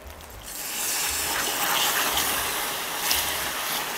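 Water is poured into a cooking pot while making coconut manjar pudding, giving a steady, close rushing splash that holds at an even level for about four seconds.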